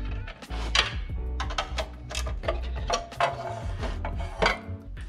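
Metal parts clatter and clank as the blower housing is pulled off a minibike engine, a run of irregular knocks, scrapes and rattles close up with no talking.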